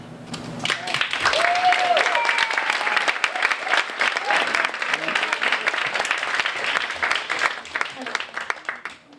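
A rowdy audience at a 2018 county supervisor candidate forum bursts into applause mixed with yelling, dense and continuous for several seconds at moderate distance.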